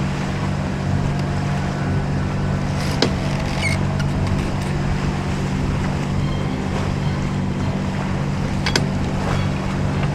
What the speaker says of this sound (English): The breeze was beginning to stiffen.